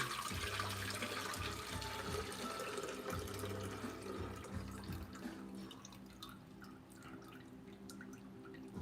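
Water splashes and drips while an espresso machine's drip tray is rinsed out at a sink, a steady close wash of running, trickling water with no talking.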